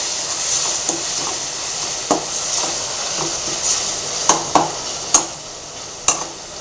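Spices and turmeric fry in a pan with a steady soft sizzle and hiss. Sharp spoon taps and scrapes come now and then, growing more frequent toward the end, close by, with no voices.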